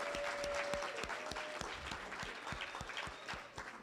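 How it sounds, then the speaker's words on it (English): A round of applause from a small gathering: steady, distinct claps that are fairly quiet and continue evenly throughout. "Round of applause for Vic for being in there with me."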